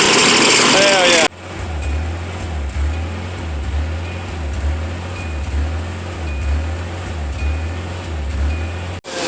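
A 1988 Nissan Pathfinder WD21 engine idles with a vacuum leak and an exhaust leak, its low hum rising and falling in a slow, uneven rhythm after an abrupt start, close and steady.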